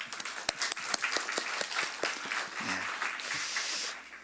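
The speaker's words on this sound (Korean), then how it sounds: "우리 다시 한번 축복의 박수 한번 할까요?" Church congregation at a Wednesday evening service gives a round of applause for a deacon and cell leader, scattered individual claps over a steady wash of clapping, moderately distant, with a brief voice murmur near the end.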